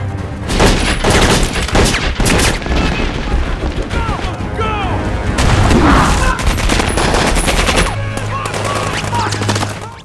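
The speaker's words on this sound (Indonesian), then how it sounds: "sehingga baku tembak pun terjadi." A heavy firefight from an Iraq war film: dense, rapid machine-gun bursts and scattered single shots crack loudly and nearly without pause, with booms and faint voices mixed into the din.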